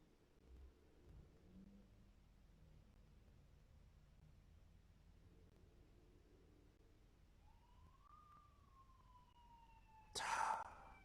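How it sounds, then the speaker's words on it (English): A police siren wails faintly in the distance in a poor neighborhood in Ecuador, a single rising and falling tone drifting over quiet background noise near the end. "Of course they're gonna be police sirens"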